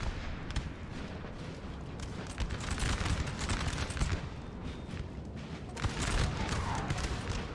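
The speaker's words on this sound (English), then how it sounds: "they're going to die to the infantry volleys" Napoleon Total War battle with rolling musket volleys from infantry lines and artillery fire, dense overlapping crackling shots and booms in continuous waves, with no voices.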